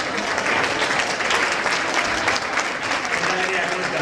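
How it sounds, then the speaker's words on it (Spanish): Audience applause fills a Galician TV variety show studio as a girl is welcomed on stage; steady, dense clapping from a large crowd runs loud and continuous throughout. "Nerea, un fortísimo aplauso para ella."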